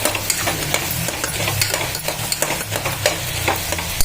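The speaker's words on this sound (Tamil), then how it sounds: "மிளகாத்தூள் நெடி போகிற அளவுக்கு கொஞ்சம் நல்லா வதக்கிடலாம்." Chili powder sautéing in a pan while bottle gourd rice is cooked, a close, busy sizzle with frequent scraping strokes of a spatula stirring, no voices.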